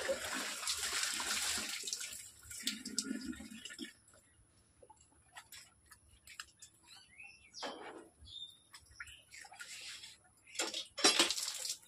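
Something is washed with soap and water, splashing and running close by for the first few seconds, then tapering to softer trickles and drips with birds chirping in the background.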